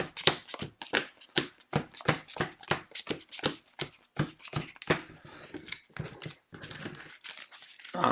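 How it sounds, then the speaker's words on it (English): Playing cards are shuffled at a table in quick, repeated riffles and crisp snaps, close and clear, forming a steady rhythmic series of bursts with brief pauses near the end. "So now it's going to be just watching me shuffle cards."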